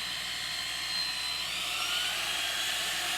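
A machine buffer works 3M 36060 compound over the inside of a 14-inch amber acrylic Ludwig Vistalite concert tom drum shell, giving a continuous high-pitched motor whine with a steady grinding hiss close by.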